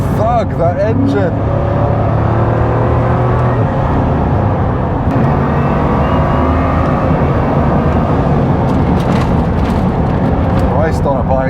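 A Bugatti Chiron Pur Sport's engine thuds and chugs while driving a twisty French road in autumn, a steady loud drone throughout, with a voice talking over it.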